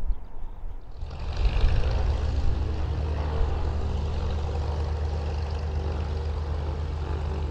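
A Spitfire taxiing in after landing at Blackpool: a steady, loud propeller-engine rumble swells in after about a second and holds continuously, close by, with no talking.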